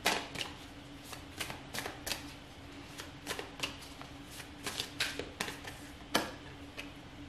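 Tarot cards being shuffled up close in repeated quick riffling bursts, a run of crisp papery flutters and taps with short pauses between them.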